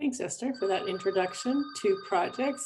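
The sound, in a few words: telephone ringing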